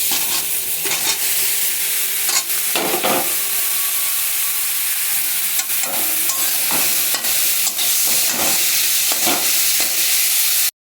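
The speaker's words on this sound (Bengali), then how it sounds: "গাজরটাকে 4-5 মিনিট একটু ভাজা করে নিই।" Grated carrot frying in ghee with cardamom, a loud close sizzle with repeated scraping stirs of a spatula against the pan at an uneven pace, without speech.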